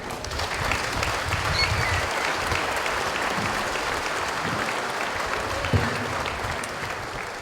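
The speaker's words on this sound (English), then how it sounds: "Please, a big round of applause." Audience applause after an introduction at a Mohawk community event honoring code talkers, a steady, dense clapping from a large crowd that fills the whole stretch without a break.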